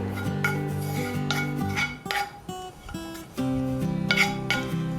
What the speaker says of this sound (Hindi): इस गरम पैन में ही हम डाल देंगे थोड़ी सी कसूरी मेथी और इसको भी हल्का सा चलाकर